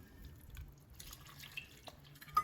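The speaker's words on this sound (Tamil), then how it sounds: "நான் அதை தண்ணி ஊற்றி டாப் அப் பண்ணிக்கிறேன்." Water is poured and topped up into a pressure cooker for Ambur mutton biryani with seeraga samba rice, heard as faint, scattered drips and splashes in a quiet kitchen.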